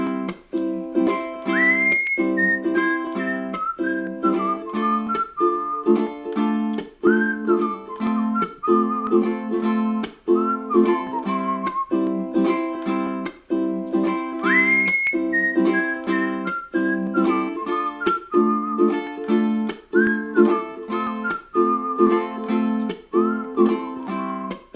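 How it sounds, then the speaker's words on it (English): People whistle a melody together along to a ukulele song, a sustained tuneful line over steady rhythmic strumming, with no talking. "Let's all whistle."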